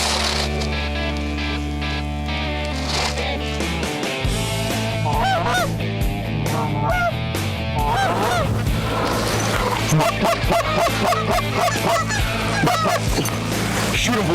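A big flock of geese flies in over a waterfowl hunt, honking loudly and continuously from many birds at once. The calls overlap in a dense, raucous chorus after a low rumble at the very start.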